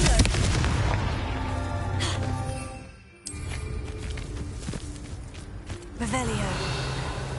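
Confringo blasting-spell explosions in Hogwarts Legacy, heavy booming blasts that rumble out under a busy game mix, with a sharp burst after a brief dip and a fresh explosive hit near the end.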